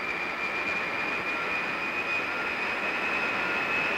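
A steady roar of a jet engine with a faint high whine runs unbroken throughout, loud and continuous with no talk.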